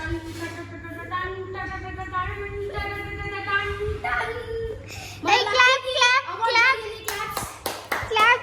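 Hands clapping in bursts amid excited children's chatter and shouting during a group game, the claps partly masked by the talking voices.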